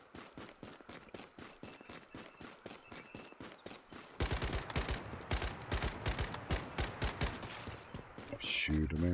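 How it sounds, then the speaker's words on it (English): Rapid bursts of automatic gunfire in the video game Once Human, sparse shots at first and then a dense, louder fusillade of overlapping rounds that ends in heavy blasts. "shoot him in the ass"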